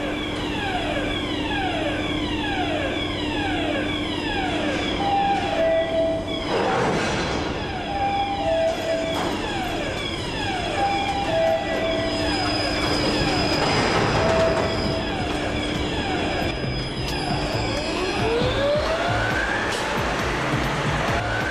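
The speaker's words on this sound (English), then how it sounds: "The car shifter transfers the empty cars from the incoming rail track parallel across to the return rail track" A model railway car shifter carries empty rail cars sideways from the incoming track to the return track, with steady mechanical whirring, repeated squeals and chirping tones, and a few louder clattering bursts.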